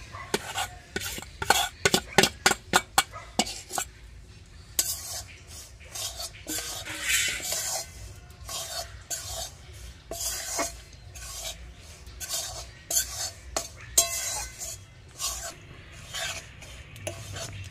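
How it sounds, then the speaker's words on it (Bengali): Rice flour dry-frying in a pan, stirred with a utensil: repeated rhythmic scraping and rasping strokes, quick and sharp at first, then irregular, with a faint sizzle beneath. "ভালো করে একটু ভেজে নেব। নাড়তে হবে ভালো করে, না হলে লেগে যায়"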